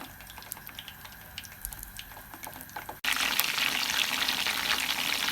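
Chicken pieces frying in oil: first a quieter bubbling crackle with scattered pops, then a sudden jump to a loud, steady, dense sizzle for the rest, heard close with no voices.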